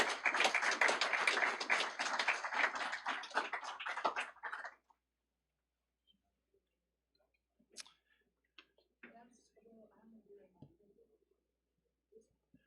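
Applause for industrial electricity program signees at a career and technical education signing day ceremony, a loud broadband burst of many hands clapping for about five seconds, then near silence with faint scattered sounds.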